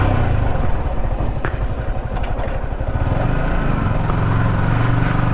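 A Yamaha R15M motorcycle ridden for the first time, its engine a loud, close, continuous drone with throttle changes and a steady rumble throughout, no voices.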